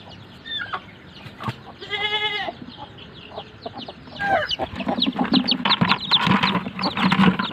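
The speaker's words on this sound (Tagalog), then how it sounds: "Itong ating mga alagang silky." Silkie chickens cluck and call near and loud, with a short run of rapid repeated clucks early on and busier overlapping bird calls building toward the end.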